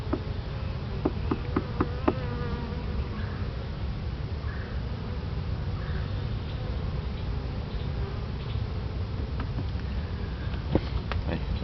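Honeybees at a 10-frame Langstroth hive buzz in a dense, continuous hum, with individual bees droning past close by and occasional light knocks, no talk.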